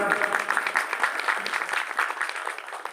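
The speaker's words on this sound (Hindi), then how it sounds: "जोरदार तालियों से अभिनंदन" An audience at a Ram Katha religious discourse claps steadily, a brisk patter of many hands at moderate volume, with a faint murmur of voices underneath.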